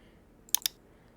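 Two quick keystrokes on a computer keyboard, close and crisp, sounding alone against a faint room hiss.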